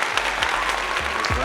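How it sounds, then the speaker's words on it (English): Steady applause from an audience fills the short stretch, dense and continuous clapping at even loudness with a voice talking over it. "All right, so make some noise for Sina"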